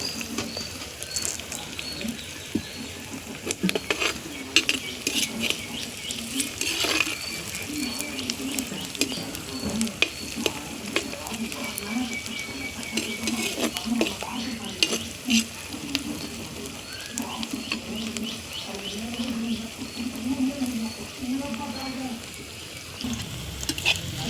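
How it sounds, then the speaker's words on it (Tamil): Ingredients for a Tamil fish curry sauté in a pan, with steady sizzling and frequent scraping stirs of the spoon throughout, close up and continuous. "எவ்வளோவும் நல்லா சோர்ந்து போகிற அளவுக்கு வதக்கணுங்க"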